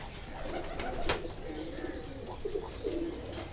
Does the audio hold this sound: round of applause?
no